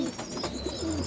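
Pigeons and their young chicks call in a loft, short cooing and chirping notes over a steady background hum, close by and fairly loud.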